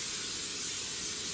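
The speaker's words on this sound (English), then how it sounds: "I'm going to just hit it very, very lightly with a little of my baking spray." A single short hiss of baking spray is released into a 9x13 pan, close and steady for about a second.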